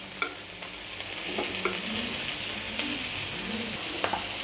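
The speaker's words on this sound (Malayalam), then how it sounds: "നമുക്ക് ഗ്രിൽ ചിക്കൻ ഒന്ന് തിരിച്ചിട്ട് കൊടുക്കാം." Grilled chicken with curry leaves sizzles quietly in a pan as it is turned, giving a steady low fry hiss with a few soft clinks and scrapes, and no talking.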